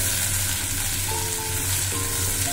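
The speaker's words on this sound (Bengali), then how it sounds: "এবারে ভালোভাবে টমেটোটা যতক্ষণ না কাঁচা গন্ধ ছাড়বে ততক্ষণ না একটু আমি ভাজব" Ginger and cumin paste fry with tomato in oil for a duck egg curry, giving a dense, continuous close sizzle with faint stirring and no talk.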